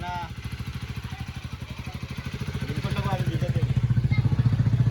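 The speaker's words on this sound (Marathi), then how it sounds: "राकेश सामी बाईक वरती येतोय" A motorcycle engine putters steadily, its pulsing exhaust growing louder as it draws closer.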